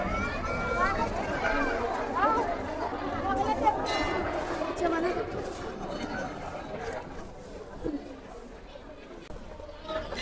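An outdoor Sankranti festival gathering fills the air with a steady murmur of many voices, with nearby people talking over the general crowd babble throughout.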